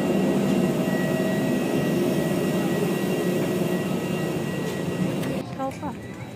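Aircraft engines roar in a steady, loud, broadband drone during a flight to Da Nang, Vietnam, heard from inside the cabin with voices talking over it before the noise eases slightly near the end.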